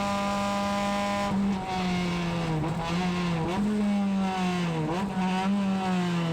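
A classic car on worn tyres runs fast through the Spa circuit past Blanchimont: a loud, unbroken engine drone whose pitch dips briefly at several shifts and lifts, heard from inside the car with no talking.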